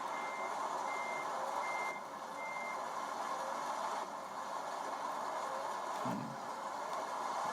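Truck in Euro Truck Simulator 2, a Volvo FH16, reversing with a steady series of evenly spaced warning beeps over a constant engine hum, with a brief low thump near the end.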